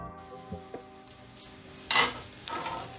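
Peppers and onions sizzle steadily while sauteing in a pan for a steak and cheese sub, with a few soft stirring scrapes and a brief louder crackle partway through; no voices.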